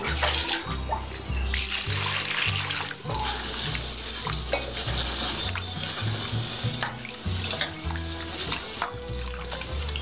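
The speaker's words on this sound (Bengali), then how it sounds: "ডালটা 2-3 বার ধুয়ে নেবেন।" Masoor dal, red lentils, is washed in a pot of water, with close sloshing, swirling and splashing punctuated by light clinks of the pot, going on steadily throughout.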